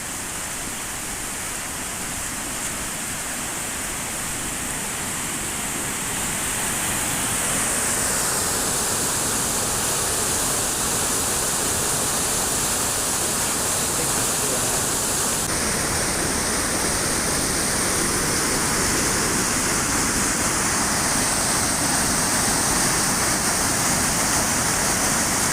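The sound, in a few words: river in flood pouring over a weir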